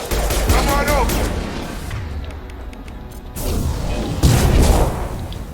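Rapid bursts of video game gunfire from a powerful weapon in Mass Effect 2, loud sustained volleys with impacts and whooshes, pausing briefly midway before another burst, with someone talking over the action.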